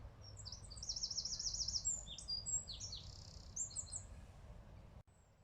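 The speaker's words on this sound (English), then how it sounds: "To be able to hear the bird song still." Birds sing outdoors in high, quick chirps and short trilled phrases, fairly distant and soft over a steady low rumble of wind and background noise, then stop abruptly.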